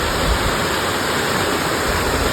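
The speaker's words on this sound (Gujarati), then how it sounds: "ઝરણું એટલે છે ને ઓલું ધોધ કહેવાય, જે ઉપર પહાડોમાંથી કોતરાઈને આવતું હોય" Rushing water roars loud and steady close by, a constant torrent of a mountain stream pouring down a waterfall on Girnar near Junagadh, Gujarat, with no other sounds.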